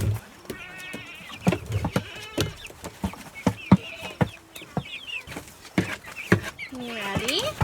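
Chickens cluck and squawk in a farm barn alongside bleating goats, with sharp knocks and clatter close by and a person talking in between.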